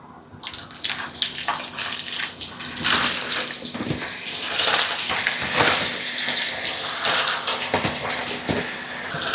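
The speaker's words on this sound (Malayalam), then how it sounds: "അപ്പോൾ 2 സെറ്റ് ചിപ്സ് വറുത്ത് കഴിഞ്ഞു. മൂന്നാമത്തേത് ചൂടായി കിടക്കുന്ന എണ്ണയിലേക്ക്." Jackfruit chips fry in hot oil with a loud, busy bubbling hiss that swells and churns, with splashy surges as the pieces are stirred, no talk.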